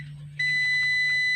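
A digital multimeter's continuity buzzer sounds a steady high electronic tone when its probes touch a shorted diode, beginning partway in and holding loud and unbroken to the end.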